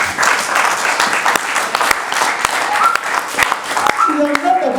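Church congregation applauding during a French-language sermon, a dense steady wash of clapping with loud individual claps standing out, voices and a raised speaking voice mixed in throughout.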